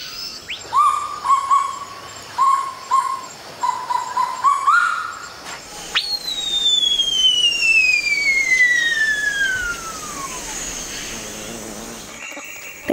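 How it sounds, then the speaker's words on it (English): Loud bird calls ring out: a series of repeated whistled notes, then a long, piercing descending whistle sliding down over several seconds. "birds that live in rainforests have to call very loudly"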